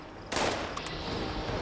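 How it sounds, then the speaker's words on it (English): Gunfire in a video game, a short faint burst of shots followed by a couple of quieter reports over steady background game noise, with no talk. "Who is shooting at me?"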